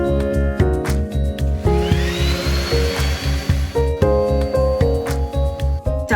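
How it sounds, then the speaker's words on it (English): A power sander runs steadily and loudly at close range, pulsing with a mechanical hum, while filled holes in a bus conversion wall are sanded down. "So I'm going to sand down those holes again."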